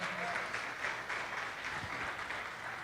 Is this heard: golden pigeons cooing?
no